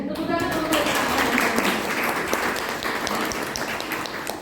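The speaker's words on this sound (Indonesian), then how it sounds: "Tepuk tangan untuk" Audience applause at a guest lecture on the Leuser ecosystem in Aceh, a dense, steady patter of many hands filling the room at close range, with a voice speaking over it throughout.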